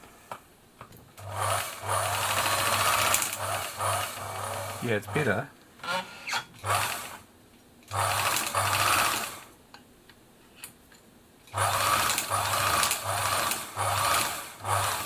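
A Singer 760 sewing machine runs in repeated bursts, a rapid mechanical whir and clatter starting and stopping, with a slight rattle on deceleration and a person briefly talking between runs.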